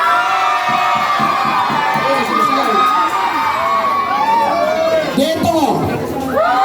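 A large crowd at a restaurant grand opening contest cheers and shouts loudly and continuously, with many overlapping voices and excited yelling, close and dense throughout.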